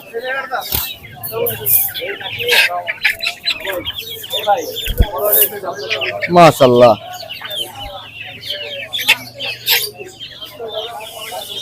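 Silkie chickens at a village market clucking and squawking close by in busy bursts, under steady talk from people around the stalls.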